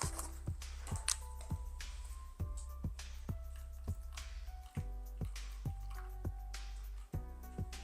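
White wood-toner pigment drips and pours into a cup in a series of distinct plops, close up and clear, with no talking.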